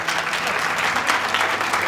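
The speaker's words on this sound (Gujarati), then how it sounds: "એક વખત ભગવાન માટે તાળીનો ગડગડાટ થઈ જાય." An audience at a community gathering honouring ascetics breaks into sustained applause, a dense, even roar of clapping that carries on without pause throughout.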